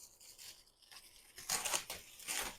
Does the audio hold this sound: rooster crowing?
no